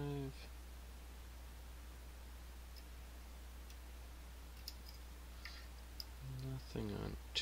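Faint, sparse little clicks as a pick sets pins in an Assa Twin Exclusive 5700 lock, scattered over steady background hiss, with brief voice sounds at the start and near the end.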